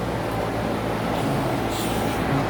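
An air conditioning unit runs in the background, a steady broadband whooshing hum that stays constant and fairly loud throughout, with no talking.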